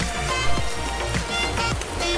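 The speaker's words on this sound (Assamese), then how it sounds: "এনেকুৱা চিপচিপীয়া বৰষুণত?" Light drizzling rain falls in a village, a soft, even patter of drops on surfaces heard up close and continuous for a couple of seconds, with no voices.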